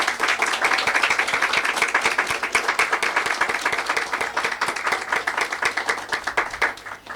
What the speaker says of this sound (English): So if we can give all of our writers one last round of applause.